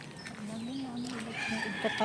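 Chickens cluck and a rooster calls at moderate distance on a farm, with people talking nearby and faint outdoor background noise.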